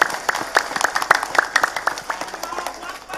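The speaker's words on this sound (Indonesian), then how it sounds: "Tepuk tangan sepindah malih." Villagers at a community gathering in Kampung Bubutulan clap loudly as an audience, a brisk patter of individual claps that gradually thins out toward the end.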